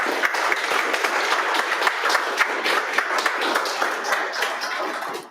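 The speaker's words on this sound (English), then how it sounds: "round of applause" A room audience at the MLOps London May 2022 meetup breaks into loud, sustained applause after a talk on feature stores and ML security. Dense, steady clapping continues for about five seconds before tapering at the end.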